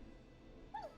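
A neighbor's dog in the video game Killer Frequency lets out one brief, faint whimpering yip near the end of an otherwise quiet, low hum.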